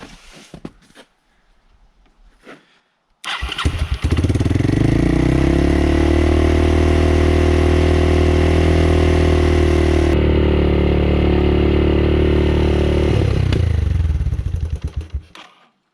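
A 1986 Yamaha Moto4 YFM200 DX shaft-drive ATV engine running on choke catches at about three seconds and runs loud and close. It holds a steady, harmonic drone, then sags and dies near the end, with no talk over it.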